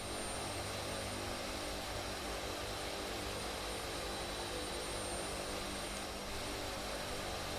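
The engines of a C-130 Hercules in Flight Simulator 2024 drone as a steady, dense roar, continuous and unbroken throughout with no voices.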